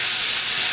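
Onion frying in a pot for a spicy chicken and vegetable soup, a steady close hiss and sizzle that stays even and unbroken throughout.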